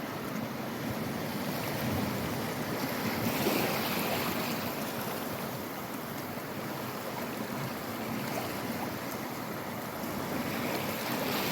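Waves washing steadily onto a beach shore in the early morning, a continuous soft surf wash with gentle swells and some wind, no voices.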